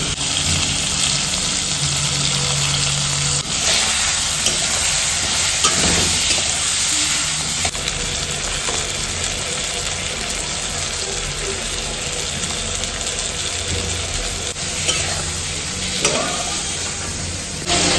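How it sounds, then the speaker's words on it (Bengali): Pointed gourd with turmeric and ground cumin sautéing in a pan gives a steady, close sizzle for the whole stretch, broken by repeated stirring scrapes and clinks, with no talking. "আর মশলাটাকে একটু কষিয়ে নেব।"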